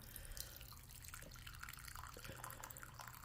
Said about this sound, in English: Okay, and we're going to pour the water out.